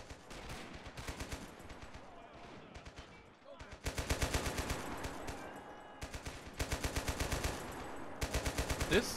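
Machine gun fire in Men of War: Assault Squad 2, in a Market Garden battle between Polish airborne troops and panzers: rapid rhythmic bursts of shots, a quieter patch in between, then long, loud sustained rattling.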